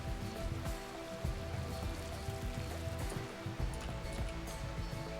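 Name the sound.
rain in the video game RimWorld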